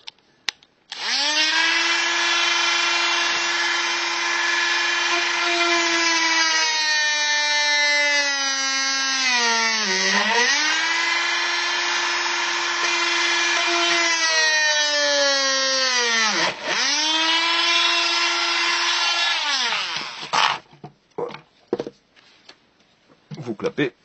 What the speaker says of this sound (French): Vous prenez l'outil multifonction, mode forêt, mode perceuse, et vous allez venir percer dans les trous.